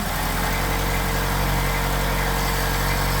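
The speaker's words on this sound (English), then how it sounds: "So unchoked, and we'll warm up the engine." A car engine fitted with Solex 44PHH carburetors warms up after a cold start with the choke pushed in, a steady, loud, close idle with a constant low rumble and no talking.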